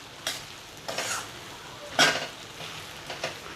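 Okra bhaji is stir-fried with salt in a pan, sizzling with four or five scraping stirring strokes at uneven intervals. No one talks.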